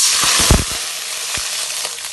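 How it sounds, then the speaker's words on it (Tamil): Mustard seeds sizzle and pop in hot oil, a steady hiss broken by a few sharp crackles, close up with no talking. "எண்ணெய் ஊற்றி கடுகு போட்டுக்கலாம்."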